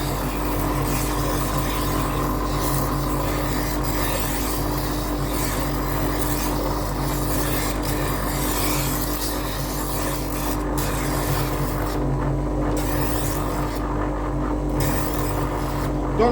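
A Parkside PNTS 250 C2 wet and dry bench grinder runs steadily as a knife is ground against its wheel, a continuous close motor hum with a low rasping scrape that stays even for the whole stretch.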